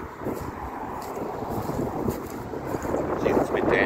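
Gusty wind buffets the microphone outdoors at the Hastings, Australia railway switching point for the Bluescope steel train, a steady loud rumbling roar with no talk, building slightly toward the end.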